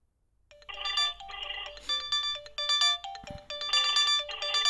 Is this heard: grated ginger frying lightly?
no